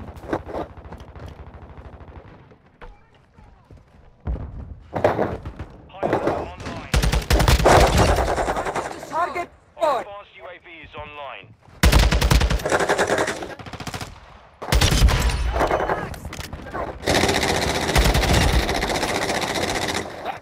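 Automatic weapon fire in Call of Duty: Modern Warfare II, played on a new multiplayer map: loud, rapid bursts of varying length separated by short pauses, with a brief voice in places.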